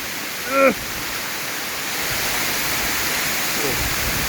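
Natural waterfall in Karen State, a steady broadband roar of rushing water that holds throughout at moderate loudness, with a brief voice sounding near the start.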